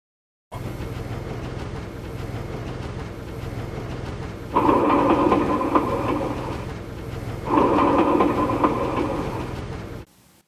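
A train rumbles steadily with a low drone, growing louder in two stretches of rattling clatter before cutting off.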